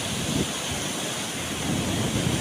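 Steady roar of surf and ocean waves nearly two meters high during a strong northeast monsoon, with wind rushing across the microphone, continuous and fairly loud throughout.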